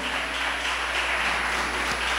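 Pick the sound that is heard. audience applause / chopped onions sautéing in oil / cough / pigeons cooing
audience applause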